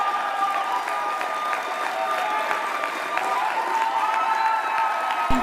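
Applause and cheering from a crowd at a political speech on election night, a dense steady wash of clapping with scattered shouts that stays even throughout.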